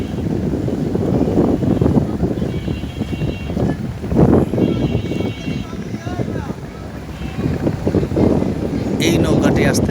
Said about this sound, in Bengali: এই নৌকাটি আসতেছে, আর একটা বড় নৌকা দেখতে পেরেছি।